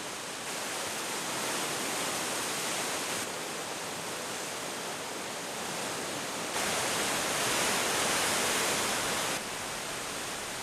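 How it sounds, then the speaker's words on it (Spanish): Meltwater-fed Abiskojoka river rushing through a valley in Abisko park, Sweden: a steady, dense, broadband roar of flowing water, continuous and fairly loud, with no voices. "El deshielo continúa en verano y nutre de caudalosas aguas al río Abiskojoka, que atraviesa el parque formando un valle."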